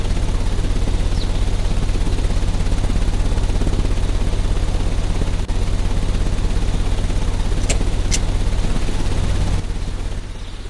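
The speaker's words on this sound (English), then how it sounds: "The engine has started." Engine running in the video game Sherlock Holmes Crimes & Punishments: a loud, steady droning hum that holds unbroken throughout, with a couple of brief sharp clicks near the end and no voices.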